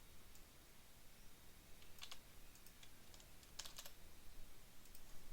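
Faint typing on a computer keyboard while copying with Ctrl C, a few sparse soft key clicks in small clusters over quiet room hiss.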